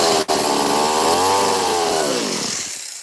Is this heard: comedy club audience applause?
no